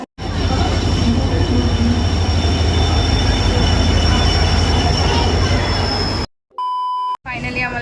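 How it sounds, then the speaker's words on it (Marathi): A train rumbles loudly and steadily past on a Konkan rail route, with squealing wheels and a low heavy drone, then cuts off abruptly before a few short beeping tones. "फायनली आम्हाला ट्रेन भेटलेली आहे."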